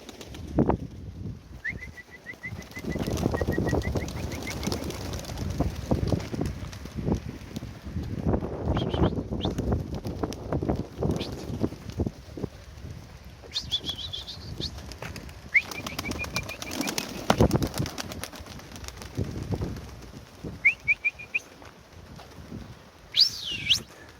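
Molting pigeons coo softly amid bursts of wings flapping and scattered chirps, a busy, close flock with rustling movement throughout.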